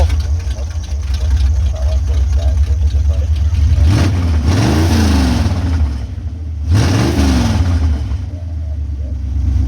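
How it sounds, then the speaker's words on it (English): A 1931 Plymouth driving down the road at the No Name Nationals 2023 car show, its slightly loud engine running steadily close by and revving up twice in strong surges. "You see this 31 Plymouth driving down the road and it's a little loud"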